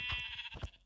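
A Minecraft sheep gives a short, faint bleat, a single quick wavering call on its own.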